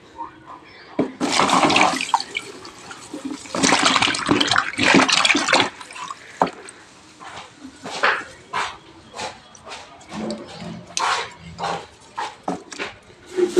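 Freshly harvested ginger is rinsed under running water, giving bursts of splashing and trickling that come and go in uneven spurts, with some background noise mixed in.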